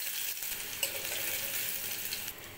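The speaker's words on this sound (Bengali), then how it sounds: "ফোড়নে দিচ্ছি জিরে, আর দিচ্ছি থেতো করে রাখা রসুন" Cumin seeds and crushed garlic dropped into hot oil in a home kitchen make a soft, steady sizzle with a few small crackles and pops, heard alone without talk.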